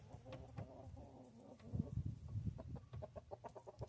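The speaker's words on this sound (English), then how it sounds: "That's another one of my hens right there." A free-range hen clucks in quick, rhythmic bursts close by, a faint series of short throaty calls that rise and fall over a few seconds, with no talking.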